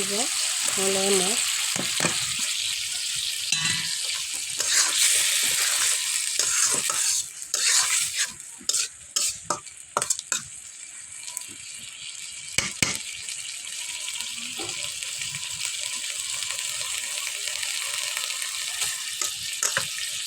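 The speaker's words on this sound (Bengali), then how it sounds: "মশলাগুলো কষে আমি মাছগুলো দিয়ে দিব" Small mola fish frying with tomato and spices in a pan give a loud, close, continuous sizzle, broken by sharp stirring scrapes and clatters about midway, with no voices.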